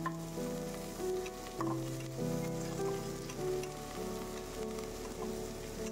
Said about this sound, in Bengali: পেঁয়াজগুলো এবার ভালো করে ভাজা ভাজা করব।